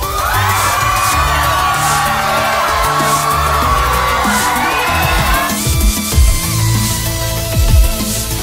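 A crowd cheering in the Dance Dance Revolution video game, loud sustained whoops and yells rising over driving music, close and continuous.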